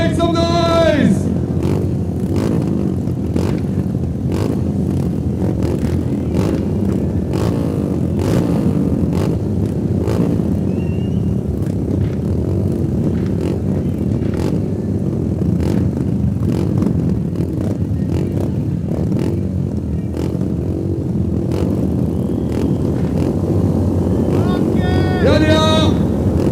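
Royal Enfield motorcycles rumble at a Race of Champions event at Rider Mania 2022, with engines revving near the start and end under heavy wind buffeting, crowd noise and an announcer.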